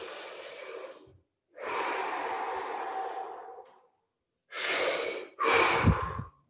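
Deep, relaxed yawn-like breaths are drawn in close and loud as a trumpet warm-up, with one long inhale followed by two shorter breaths after a pause.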